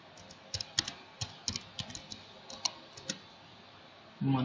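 Close, light keystrokes on a computer keyboard as a name is entered in MS Word, a dozen or so irregular taps over a few seconds, quiet, ending as a voice begins.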